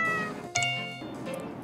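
A cat meows twice, the first a drawn-out, fairly loud cry and the second softer and trailing off, with no talk over it.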